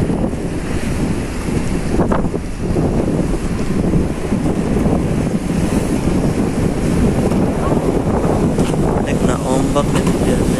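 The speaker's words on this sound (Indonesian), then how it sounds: "Nah, ombak ini dia." Sea waves and strong wind aboard the KM Kirana VII ferry between Surabaya and Lembar, a constant loud rushing roar with heavy wind buffeting on the microphone and broad surf wash throughout.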